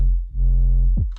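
A sustained 808 bass note programmed in FL Studio for a trap track, holding steady for about a second before a quick slide note swoops down at the end, loud and alone.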